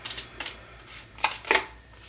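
Playing cards riffle and snap in a few short, quick bursts, close and fairly quiet, with brief pauses between the flicks as cards are shuffled and drawn.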